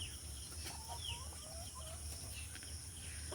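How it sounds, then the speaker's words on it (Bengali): Free-roaming chickens beside a rural house give soft, scattered clucks and short calls over a steady background hum, faint and somewhat distant. "এই যে মুরগিগুলো সব ঘরের পাশ থেকে ঘুরছে"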